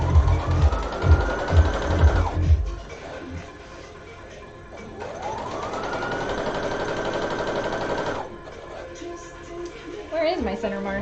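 A sewing machine bastes fabric toward a center mark in two bursts of rapid rhythmic needle stitching, close and fairly loud. Someone talks over and between the bursts.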